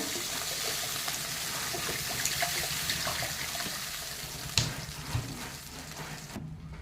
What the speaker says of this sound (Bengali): এখন এর ভিতরে আমি একটু জল দিয়ে দেবো।